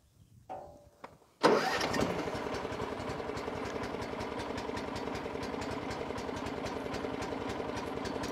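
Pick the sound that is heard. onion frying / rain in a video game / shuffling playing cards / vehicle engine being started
vehicle engine being started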